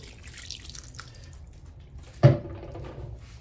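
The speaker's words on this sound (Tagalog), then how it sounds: "At yung chicken powder natin, lagyan na natin ng tubig." Water splashes into a pot holding galunggong fish for pinangat, with chicken powder added. A single sharp pour-splash lands near the middle, then trickles and drips fade beneath a low kitchen background.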